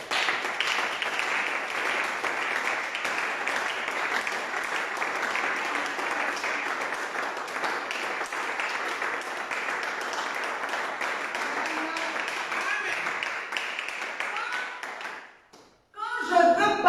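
A church congregation claps in sustained, dense applause for about fifteen seconds before it stops abruptly, with a voice briefly audible afterward.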